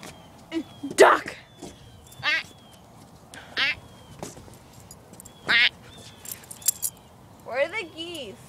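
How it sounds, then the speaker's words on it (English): Several ducks quack in short loud bursts spread across the scene, close by, with occasional footsteps and light handling noises between the calls. "Duck."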